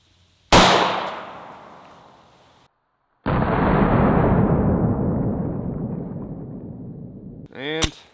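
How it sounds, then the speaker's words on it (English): A single sharp Hi-Point pistol shot is fired outdoors into a ballistic gel block, loud and close with a decaying echo, followed by a long rushing noise and a brief rattling clatter at the end. "Once again, starting with the high point."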